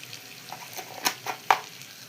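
Potato curry being stirred in a pan after salt goes in, giving a few soft scraping and clinking stirs over a faint sizzle, with two sharper knocks near the end.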